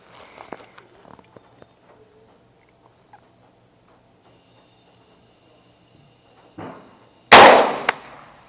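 A single sharp gunshot from an Extar EP9 pistol during a velocity test outdoors, loud and close, cracking out after a stretch of quiet crickets and faint shuffling, with a ringing echo trailing off afterward.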